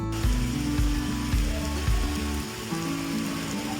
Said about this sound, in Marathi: सकाळपासून पाऊस काही थांबण्याचे चिन्ह दिसत नव्हते